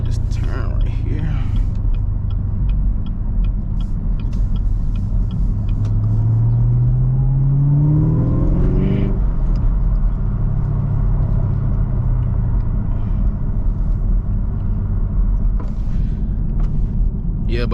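A Chevrolet Camaro ZL1 with a six-speed manual rumbles along from inside the cabin, its engine note rising in a smooth pull before settling into a steady low drone, with occasional creaks.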